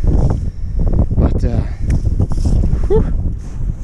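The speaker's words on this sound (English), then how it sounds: "Still absolutely crazy windy out here." Strong wind buffets a boat on a giant reservoir at Fort Peck, Montana, a steady loud rumble of gusts against the microphone while people talk over it.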